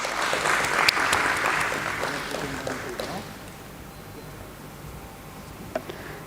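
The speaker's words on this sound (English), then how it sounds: "Please have a big round of applause." Audience applause at a stock exchange listing ceremony as an official is called to the dais, moderately loud at first then thinning and fading to a soft patter, with faint voices underneath.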